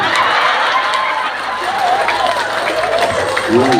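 A crowd claps and cheers in a dense wash of applause at an outdoor Isra Mi'raj religious gathering in Ngembal Kulon village, with voices talking and calling out over it.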